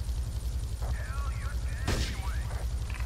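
A single sharp sniper rifle shot cracks out in the video game GTA III midway through, set over a low rumbling game backdrop with a voice talking around it.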